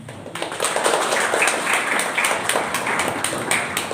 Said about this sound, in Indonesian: Kenapa kalian tepuk tangan?